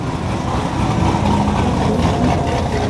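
A purple Corvette C6 Z06 at a street car event: a loud, steady low engine rumble, close and continuous, with no break or clear pass-by swell.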